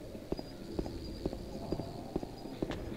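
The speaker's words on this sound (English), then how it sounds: "I think that's the cockroach enemies" Cockroach enemies in the video game Silent Hill 2, a faint, steady run of soft clicking taps repeating at a regular pace beneath a constant low ambient hum.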